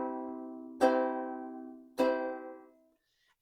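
A clock-tower-style bell sounds three times, struck at even intervals of about a second, each stroke leaving a clear, decaying ringing tone. The recording is quiet and close, with no other sound present.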